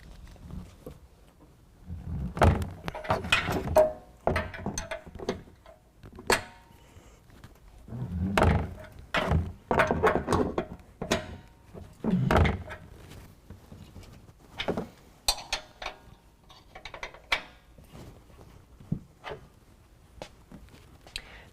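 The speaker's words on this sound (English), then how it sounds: "next we're going to go ahead and loosen up our 2 upper control arm bolts. We're going to use a 21 millimeter" A 21 mm wrench works the upper control arm bolts on a 2019 Dodge Ram 1500 during a leveling kit install, producing quiet, irregular metallic clunks, knocks and ratcheting taps spread across the clip.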